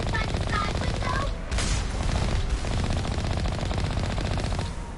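Turret gunfire in Mass Effect hammers in dense rapid bursts, loud and close. A brief gap falls before a sharp blast, then the firing resumes and carries through to the end.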